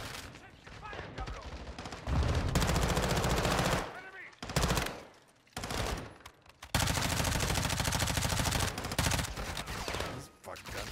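Sustained bursts of automatic gunfire in Call of Duty: Modern Warfare 2's prison break campaign mission, loud and dense, broken by brief pauses between volleys.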